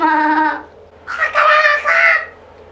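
A human voice imitates a rooster crowing: one drawn-out, rising and falling crow, loud and close, with a short vocal call just before it.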